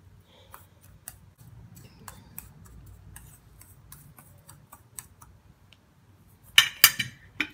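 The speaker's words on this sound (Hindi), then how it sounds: "इन सब चीज़ों को मिक्स करेंगे।" Orange peel powder, rice flour and brown sugar are mixed in a small bowl, giving faint irregular ticking and light clinks of a spoon, then a brief burst of louder scraping taps near the end.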